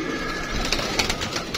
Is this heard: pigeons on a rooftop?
yes